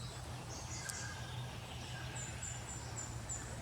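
Many birds calling in an Australian backyard, scattered chirps and repeated short high whistles over a steady low background hum, fairly faint and distant.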